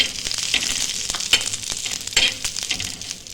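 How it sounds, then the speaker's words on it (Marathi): Spices roasting in oil with onions in a pan for a chicken rassa, loud close sizzling with repeated stirring scrapes and clinks, no one talking. "आपल्याला कांद्यामध्ये टाकून थोडीशी भाजून घ्यायची"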